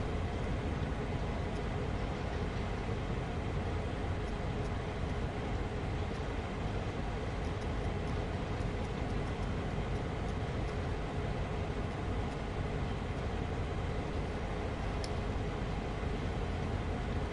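Steady, continuous rumble of a train running in Train Sim World 2 on the LGV Méditerranée high-speed line, broadband and constant throughout with no clear voices.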